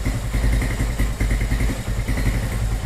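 A GL100 motorcycle with a 250 cc engine runs close by, giving a steady, loud, chugging idle with a rough, even pulse and no talk over it.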